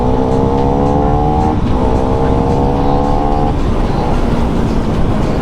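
A KTM Duke 390 motorcycle accelerates hard in third gear, its engine note climbing steadily with a loud, continuous, close-up rising whine that shifts briefly midway before rising again.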